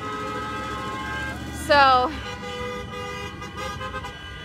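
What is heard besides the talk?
honking car horns at a protest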